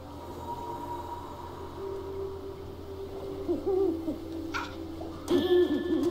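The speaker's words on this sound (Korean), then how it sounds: "올빼미" An owl hoots in the video game Never Alone, a faint, drawn-out tonal call sitting over a steady ambient wind bed, with a brighter swell near the end.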